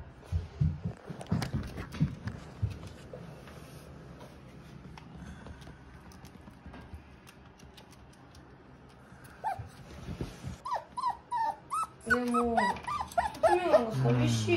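A young Shiba Inu puppy barks in short repeated yaps near the end, close and fairly loud, after a stretch of quieter sounds while people talk nearby.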